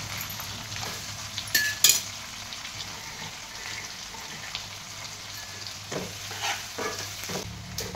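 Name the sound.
onion frying in a pan with garlic and chillies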